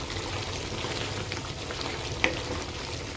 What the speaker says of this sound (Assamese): এতিয়া মাংসখিনি বনাম মাংসটো ফ্ৰাই কৰিম তেল ওলাই নহালৈকে মাংসটো মই ফ্ৰাই কৰি থাকিম